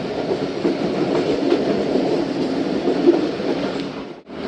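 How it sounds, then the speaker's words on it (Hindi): The 8 Down Tezgam passenger train rolls through a railway station with a continuous, loud, close rumble and wheel clatter, ending in a sudden brief dip. "पास हो रही है ट्रेन।"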